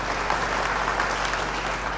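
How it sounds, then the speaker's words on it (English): A crowd applauds steadily with dense, continuous clapping that holds at an even level throughout, with no voices rising above it. "let's give a big round of applause for Helen Johnson"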